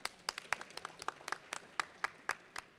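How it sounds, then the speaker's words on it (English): A small audience clapping at a tech workshop, sparse individual claps with about a dozen distinct sharp hits over three seconds, fairly quiet and somewhat distant. "Can we clap, please?"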